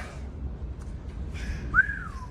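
A person whistles after getting into cold water: one short, clear whistle that swoops up and then glides down, heard alone over low background rumble.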